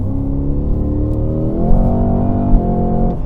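A 2025 Cadillac CT5-V Blackwing accelerates hard, its engine a loud, close, rising roar that climbs through a gear change with no talk over it.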